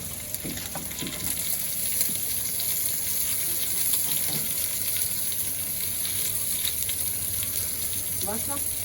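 Cumin seeds and dal sizzle and fry steadily in hot oil, a constant loud crackling hiss broken by occasional stirring scrapes throughout.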